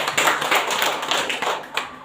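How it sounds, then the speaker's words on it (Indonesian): A school gathering at SDI Wae Dara in Indonesia breaks into a short burst of clapping, a few uneven, fairly close claps with a loose rhythm over about two seconds. "Tepuk tangan untuk ini."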